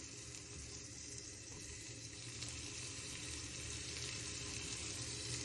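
Meatballs fry in a hot pan with a steady, faint sizzling hiss that swells slightly partway through, close and continuous with no voices.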